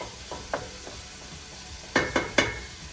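Ground beef browns in a pot for hamburger soup, a soft sizzle underneath as a spoon scrapes and knocks against the pot, a few light taps early, then three sharper scrapes close together near the end.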